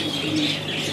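Pigeons kept for sale coo softly and briefly in a low, throaty murmur, with faint bird chatter in the background.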